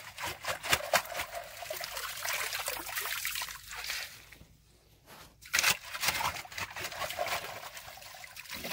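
Water trickles and seeps back into a trench dug around an irrigation pipe, a faint, close, irregular dribbling that thins briefly midway and then resumes.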